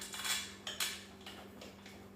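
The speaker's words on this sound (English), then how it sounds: "Screwing, screwing. Other side." Parts of an Amazon fitness rack are screwed together, giving a few faint, quiet metallic clicks and clinks spaced irregularly over a couple of seconds.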